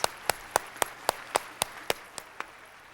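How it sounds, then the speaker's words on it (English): Audience at a university fall convocation clapping in a quiet, steady rhythm, about a dozen sharp, evenly spaced claps that thin out toward the end, with no voices over them. "Let's clap for the Mounts"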